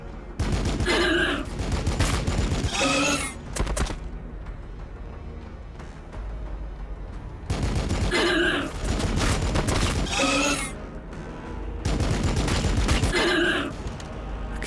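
Hellblaster squads opening fire in the Warhammer 40,000: Battlesector strategy game, loud crackling volleys in three long sustained bursts with short quieter gaps between them.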